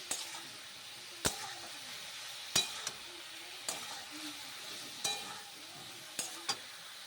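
Spices, salt and turmeric being stirred and rubbed together in a pan for a spicy morola fish and eggplant curry, with soft scraping strokes and a faint sizzle broken by several sharp clinks of the spoon against the pan.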